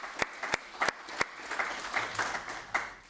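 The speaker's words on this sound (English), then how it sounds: "So again, round of applause for them and all the rest." A conference audience gives a short round of applause, starting with a few distinct close claps and swelling into a moderate, dense patter of many hands over about three seconds.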